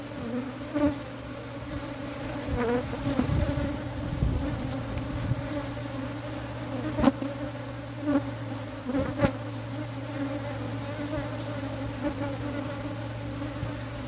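Many honey bees buzz steadily in a dense, continuous drone around a hive being split during a bluegum flow, with individual bees whizzing closer and louder now and then.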